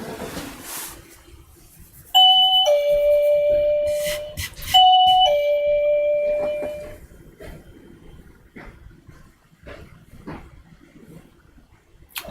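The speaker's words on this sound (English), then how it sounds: "Bells are ringing." Tonal bell chimes ringing inside a shop in Asakusa, Tokyo, two clear sustained ding-dong phrases sounding close and loud, followed by softer clinks and background bustle.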